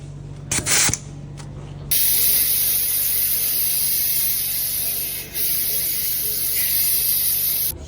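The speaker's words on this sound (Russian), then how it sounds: "Открываем фирменный чехол, берем шланг и пистолет, подключаем." A compressed-air hose and inflator gun on a Mercedes G-Class hiss loudly and continuously after a few brief clicks and bursts of connecting, with a short dip near the end.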